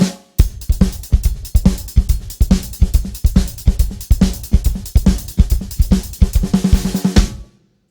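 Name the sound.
drum kit samba bass drum pattern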